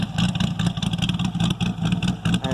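Corvette Z06 exhaust idling with a lumpy, loping rhythm, heard close from behind the car as a series of uneven low pulses with no talk.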